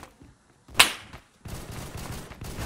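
Gunfire in the Roblox shooter Phantom Forces: a single sharp crack, then a rapid volley of shots, fairly close and loud amid quiet game ambience.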